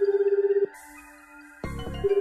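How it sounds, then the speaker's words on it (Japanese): In the video game 428 Shibuya Scramble, a phone rings with a rapid pulsing electronic tone. The ring stops, and soft synth tones play before the ringing resumes. "カノンは携帯を手にするとカジュアルに電話をした"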